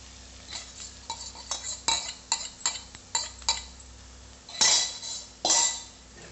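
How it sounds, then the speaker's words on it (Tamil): A utensil stirs egg beaten with turmeric and salt into beetroot in a pan over a low flame, with a string of close metallic clinks and taps followed by two louder scraping sweeps. "முதல்ல முட்டையை நல்லா கலந்து விடலாம்"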